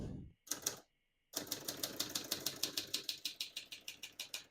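Keys on a 1967 Hermes 3000 manual portable typewriter strike in a quick, steady rhythm after a couple of brief opening clacks, crisp and close.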